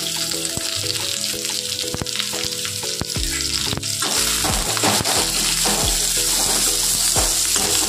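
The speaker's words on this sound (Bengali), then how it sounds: "আমি কুমড়োটা ছেড়ে দিচ্ছি, কারি পাতাটাও ছেড়ে দিচ্ছি তেলেতে" Pumpkin pieces and curry leaves dropped into hot oil, a loud crackling sizzle heard up close that swells into a steady roar, with a few scrapes and clinks of a spoon.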